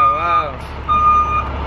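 A truck backing up with its reversing alarm beeping loud and close, two sustained electronic tones over a low engine rumble.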